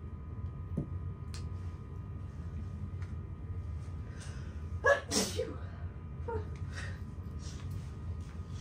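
A single sharp sneeze bursts out close by in a quiet room during a sewing session, with people talking softly before and after it.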